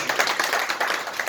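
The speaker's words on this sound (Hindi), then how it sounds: "एक बार जोरदार तालियां" A crowd at a motivational talk gives a round of applause, a dense, steady patter of many hands clapping together with no voices over it.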